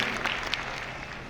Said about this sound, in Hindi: सभी लोग जोरदार ताली बजा दें दोस्तों